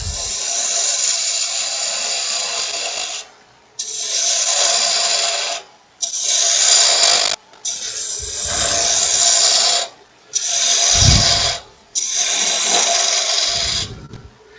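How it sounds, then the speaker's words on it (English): A spindle gouge with a 50-degree grind cuts wood on a lathe while shaping a long-stem goblet, giving six rasping passes of several seconds each with brief pauses between them, close and steady, with no talk. "Again with this 50 grind on my spindle gouge here."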